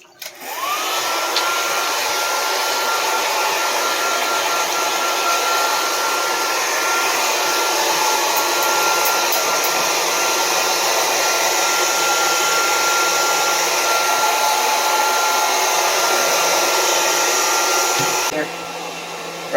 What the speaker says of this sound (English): we can go start the hair dryer